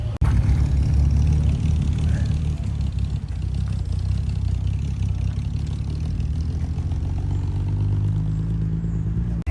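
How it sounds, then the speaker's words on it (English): A Dodge Dakota pickup with a V8 rolling out at a classic car and bike breakfast meet, its deep engine burble loud and close, holding steady with slight revving and some clatter. "That is the V8 soundtrack with anger rolling out."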